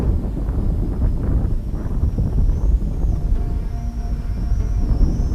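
A light Holystone HS230 drone flies outdoors in strong wind: steady blustery rumble buffets the microphone while a thin, faint motor whine rises and falls above it.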